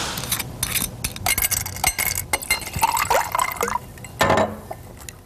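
Vodka splashes and trickles onto road salt on snowy streets and sidewalks outside a community college, with uneven bursts of pouring and dripping and a few glassy clinks close by.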